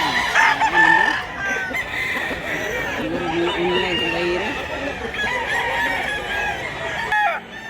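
Several roosters and stags crow and cluck continuously at a cockfowl market in Mantalongon, Barili, Cebu, dense overlapping calls near and mid-distance, with faint voices mixed in the background throughout.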